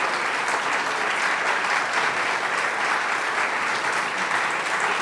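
Sustained, full applause fills an interview venue for Lawrence O'Donnell, a thick, steady roar of many hands clapping together at constant loudness without any talking.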